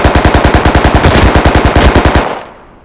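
Rapid automatic gunfire in a video game, a loud sustained burst of evenly spaced shots lasting over two seconds before cutting off, heard alone with no talk.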